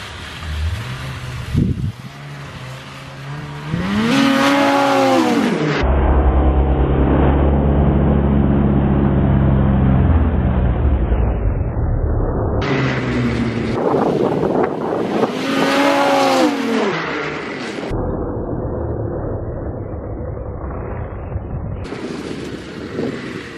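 A 2020 Ski-Doo Renegade XRS 850 snowmobile on a trail roars up to the camera and sweeps past close by. Its engine rises and falls in pitch with a strong doppler shift, passing twice with loud, sustained revving and wind buffeting.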